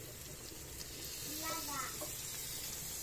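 Garlic and onion sizzle in oil in a pan for carbonara, giving a steady, moderately quiet hiss with a brief voice-like tone partway through.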